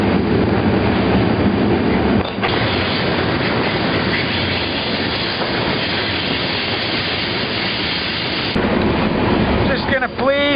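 A freight train rolling through Pittsburgh, heard up close by a rider aboard a car: a loud, continuous rumble and rattle of wheels and couplings, with a sharp metallic squeal near the end.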